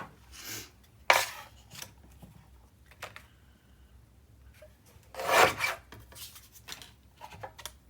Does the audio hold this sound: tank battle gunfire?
no